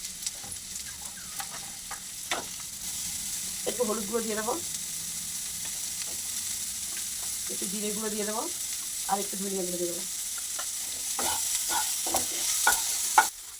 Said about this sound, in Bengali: সবজিটা আমার হালকা করে ভাজা হয়ে গেছে